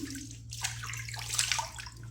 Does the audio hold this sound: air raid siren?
no